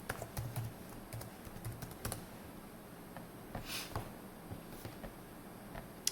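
Quiet, close keyboard typing on a computer while signing in to an account: irregular soft key taps in short runs, with a few louder clicks scattered through.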